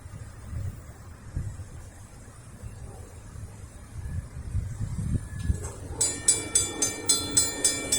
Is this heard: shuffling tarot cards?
no